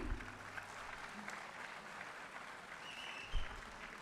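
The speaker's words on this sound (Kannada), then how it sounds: "ಜೋರಾದ ಚಪ್ಪಾಳೆ ಬರಲಿ." An audience at an award presentation ceremony applauds steadily, a continuous wash of clapping heard from a distance and fairly faint, with a brief thump near the end.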